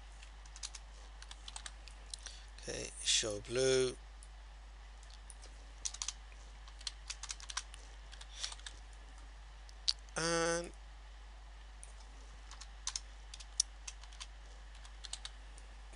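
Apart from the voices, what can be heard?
typing on a computer keyboard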